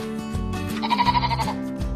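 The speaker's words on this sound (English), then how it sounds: "Sheep." A sheep bleats in a single wavering, nasal call, close and clear, lasting about a second against a quiet background with no talking.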